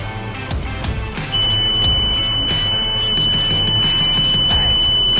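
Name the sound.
bin-up warning buzzer on a truck chassis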